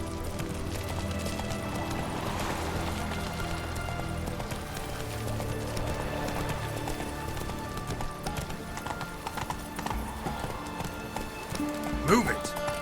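A horse gallops in The Witcher 3, its hooves thudding in a rapid, steady clip-clop with gear clatter, while a voice talks over it and a brief louder impact comes near the end.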